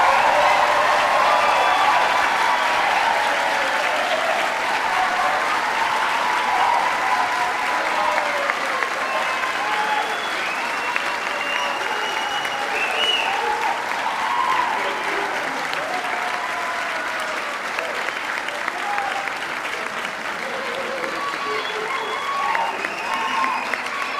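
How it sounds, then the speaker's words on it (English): Sustained audience applause at a white coat ceremony for nursing students, a dense, steady clapping from a large crowd of family, friends and faculty that holds evenly for about twenty-four seconds with no speech over it. "Can our family, friends, faculty, staff give these wonderful, talented group of future nurses applause?"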